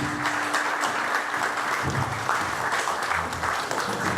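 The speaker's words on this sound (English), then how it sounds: "A round of applause." An audience at the Igbo Ambassadors Conference 2018 applauds, a dense and steady wash of clapping that fills the room for several seconds with no break.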